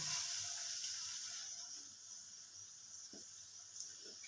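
Egg pakora coated in gram-flour batter fries in a pan with a constant bright sizzling hiss that is loudest at the start, then settles, with faint soft clicks near the end.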